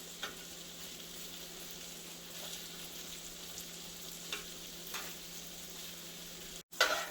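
Sausage links frying in a skillet give a steady, moderate sizzle with a few brief crackles and pops. Near the end comes a short gap, then a louder burst. No one speaks.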